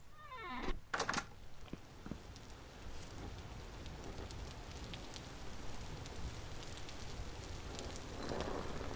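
Steady rain falls in the video game Vintage Story, a soft continuous hiss that opens with a few sharp knocks and clunks up close, then settles into even patter that swells slightly near the end.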